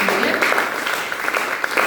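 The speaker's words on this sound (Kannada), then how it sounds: "ಮಕ್ಕಳೇ ಜೋರಾಗಿ ಚಪ್ಪಾಳೆ ಹೊಡಿರಪ್ಪ." Children clap together in a rural church: a steady, dense patter of many hands, with voices mixed in.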